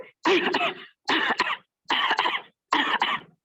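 Four deliberate coughs spaced about a second apart, close and fairly loud, made by participants on instruction during an online yoga session.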